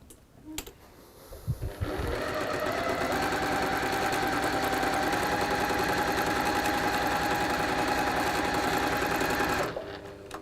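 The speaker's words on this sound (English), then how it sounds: "I'm just going to sew piece I onto the other side of the AA piece on the sashing" A sewing machine runs steadily for about eight seconds, stitching quilt pieces onto sashing, with a brief start-up at the beginning and a quick stop near the end. The whirring motor and rapid needle rhythm are close and loud, and no one speaks.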